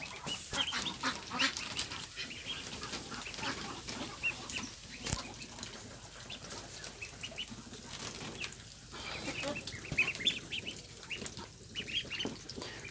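Nine-day-old Pekin ducklings peep and chatter in a dense, continuous chorus of high chirps at close range. Soft scuffling sounds run through it, and no one speaks.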